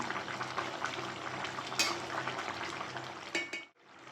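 Fish-head curry with Malabar spinach cooks uncovered on a high gas flame, a soft sizzling hiss with light stirring and scraping of a utensil in the pan, close and alone.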